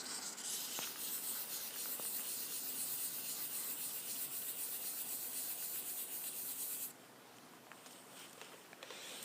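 Quiet, steady rubbing of wet sanding on black car paint to remove a bird poo stain, a continuous scratchy friction that softens after about seven seconds.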